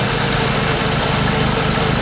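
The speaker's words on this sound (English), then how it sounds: "It's idling nice and steady, but if I give it a rev, then it comes back down." Audi S3 engine idling steadily at close range, a continuous low rumble with even rhythmic pulsing and no revs or voices.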